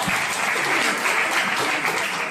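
A campus audience in Yogyakarta applauds loudly and continuously, a thick, even roar of many hands clapping with no pauses.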